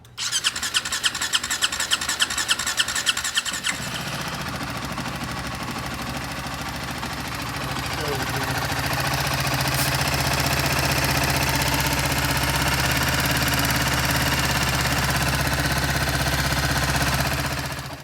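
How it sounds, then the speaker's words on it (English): A BMW G310R motorcycle engine cranks with a rapid, rhythmic starter chatter for a few seconds, catches, then settles into a steady, close idle that runs on to the end. "it might take a couple of cranks to get it to start because it might have bled off fuel pressure"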